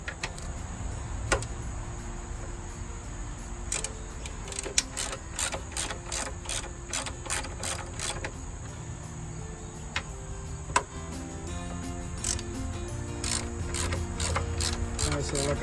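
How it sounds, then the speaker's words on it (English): Screws being loosened with a ratcheting tool during a bracket install in a Jeep, heard as repeated quick clicking runs in short bursts over a low background hum. "we're opening these two screws"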